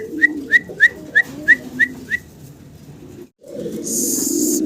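Pigeons kept in a loft for sale call in a quick series of about seven short, whistle-like coos, followed by a brief gap and then a steadier rustling wash of fluttering and background noise.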